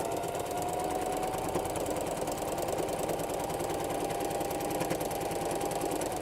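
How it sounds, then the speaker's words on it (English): A sewing machine stitching across a quilted mug rug, with a continuous, even mechanical whir and rapid needle clatter, close and steady throughout with no pauses. "I could just pivot right here, sew across"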